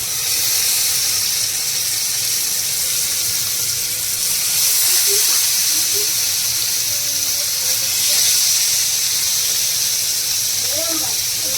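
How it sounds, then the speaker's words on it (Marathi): Dhoma fish frying in a pan, a loud steady hiss and sizzle that carries on without a break, with a voice talking over it. "ढोमा मच्छी आहे, ती फ्राय करते आता प्रीती"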